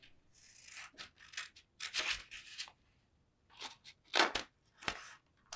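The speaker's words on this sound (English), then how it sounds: "And then take your scissors and cut it out." Scissors snip through a paper sewing pattern piece in a series of short, close, crisp cuts separated by brief pauses, with no talking.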